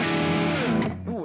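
Electric guitar through a Blackstar St James 6L6 combo amp, played completely dry with no reverb: a dense, slightly overdriven chord rings loud and close, then two quick picked notes follow before it cuts off.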